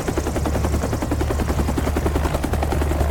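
Helicopter rotor thumping steadily and loudly throughout with dense rhythmic chopping, likely near a ship's flight deck at sea during the evacuation of Saigon.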